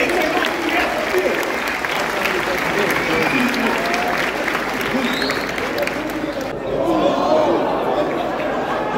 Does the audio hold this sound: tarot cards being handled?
no